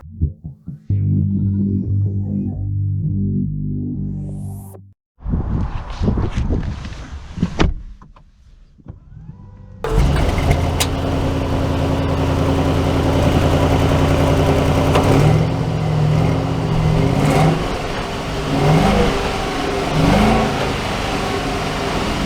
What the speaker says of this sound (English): We're going to drive the S-Class first and then the G90 second